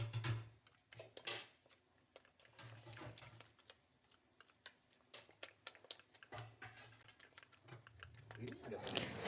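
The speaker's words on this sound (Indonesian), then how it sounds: "tinggal diaduk-aduk, dikocok-kocok-kocok sampai berbusa" Rapid clicking and tapping of a whisk or utensil beating eggs in a bowl until frothy, in bursts with short pauses, quiet and close, with a voice speaking at times.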